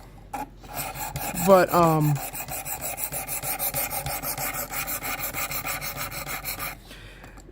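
Steady rhythmic rasping of a knife blade drawn across an abrasive stone on a plastic Worksharp Precision Adjust sharpener, repeated strokes close up, with a brief squeaky scrape near the start.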